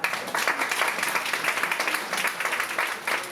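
Audience members at a live talk applaud in a steady, moderately loud patter of many hands lasting the whole moment.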